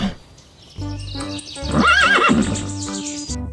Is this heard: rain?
no